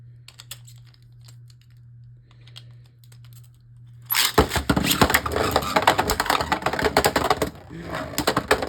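Beyblade Burst tops, Royal Genesis among them, spin and clash in a plastic stadium, and after a quiet start a dense, loud rattling of rapid hard clicks and scrapes breaks out close by.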